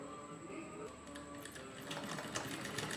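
Sewing machine running a side seam on a folded jute bag, a faint continuous rattling hum that grows slightly louder toward the end.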